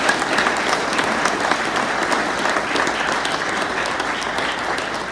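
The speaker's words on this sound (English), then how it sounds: "So I'd like you to give them a round of applause." An audience at an Eagle Scout Court of Honor applauds warmly, many hands clapping in a steady, dense wash that holds strong for several seconds before easing slightly.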